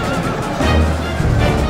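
Horses neigh amid the din of a battle in the video game Total War Medieval 2. A loud, dense mix of whinnies and clashing sounds carries on over a constant rumble.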